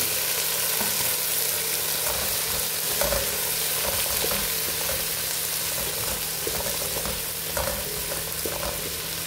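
Tomatoes, chili and vegetables sizzle and crackle steadily in a hot pan, a dense hissing fry that carries on without pause.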